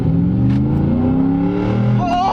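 A 2012 Ford F-150 SVT Raptor V8 pickup at full throttle, a loud close engine roar climbing steadily in pitch as it accelerates hard, with a brief voice near the end.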